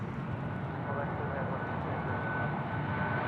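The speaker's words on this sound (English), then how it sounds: "Another interesting movement is the AirAsia. It's on runway right, nice and close to us." An AirAsia airliner on the runway at Sydney Airport sends a steady, broad engine roar from fairly close by, continuous and even throughout.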